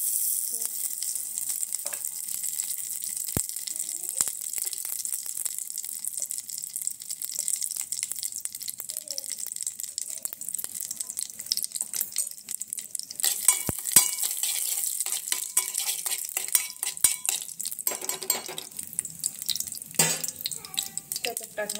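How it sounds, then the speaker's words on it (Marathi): Rice for kheer dry-roasting in a cooking pot, a soft steady sizzle with occasional scraping stirs and clinks, fairly quiet and continuous, with no talking. "तांदूळ आपल्याला छान व्यवस्थित भाजून घ्यायचे आहेत"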